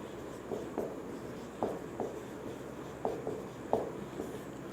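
Chalk or marker taps and scratches out a formula on a board in short, faint bursts spaced irregularly, with soft room noise between strokes.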